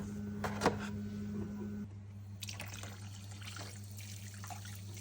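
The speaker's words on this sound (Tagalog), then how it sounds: "Hugasan muna natin ang mga itlog para masiguro na malinis bago natin ilagay sa garapon." Running tap water splashes as fifteen eggs are washed under the faucet in a home kitchen before being jarred for salted eggs, a steady trickling and splashing stream, fairly quiet and close, with a brief knock early on.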